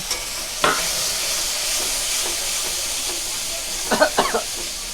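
A steady loud hiss of frying spice paste with tomato as water goes into the hot pan, with a few sharp spatters and stirring scrapes over the continuous sizzle.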